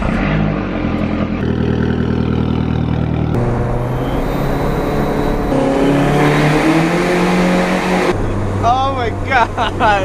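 Straight-piped Chrysler PT Cruiser GT with SRT-4 engine rumbling loudly while driving, a steady deep drone that swells in a few surges as it pulls, with people talking over it and a brief squeal near the end.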